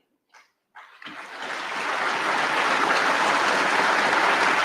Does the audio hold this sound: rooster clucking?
no